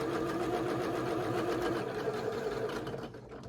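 A sewing machine stitching quilt block pieces, a rapid, even mechanical whir and chatter that runs steadily before slowing and stopping near the end, close and fairly quiet.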